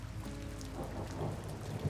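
Heavy rain pours in a dense, unbroken hiss over a quiet, deserted lane, steady and fairly soft, with a low rumble beneath and no voices.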